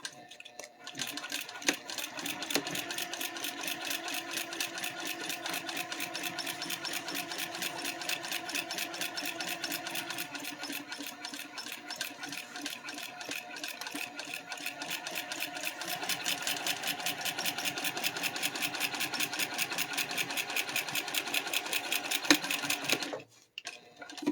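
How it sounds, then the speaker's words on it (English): A sewing machine edge stitches fabric close up in a fast, steady mechanical rattle that runs unbroken for about twenty seconds before stopping near the end. "I'm just going to go ahead and edge stitch."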